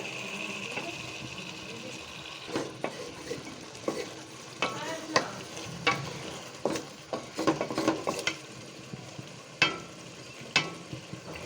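A spoon scrapes and stirs spice masala into chicken in a frying pan for a chicken and ash gourd curry, with irregular clinks and scrapes over a soft sizzle.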